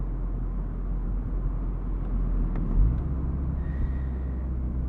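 A 2023 Mazda MX-5 Miata ND2 cruising in fifth gear at about 1,000 RPM on a backroad, a low, steady engine drone heard from inside the car, with a slight swell in rumble midway.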